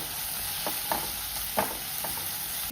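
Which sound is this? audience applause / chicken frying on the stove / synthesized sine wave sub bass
chicken frying on the stove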